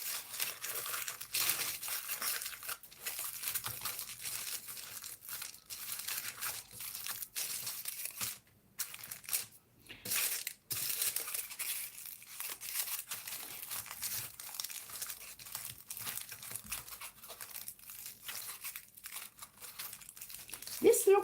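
Aluminum foil crumpled and folded by hand while shaping a mushroom figurine, a near, continuous crinkling and crackling that runs throughout, with brief pauses and louder crushes at the end.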